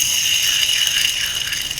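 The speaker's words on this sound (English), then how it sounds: "A bearing should not sound like this." A worn bearing from a Clark Cortez motorhome makes a rapid, gritty metallic rattle and whir that churns continuously up close, rough and uneven like something grinding as it spins.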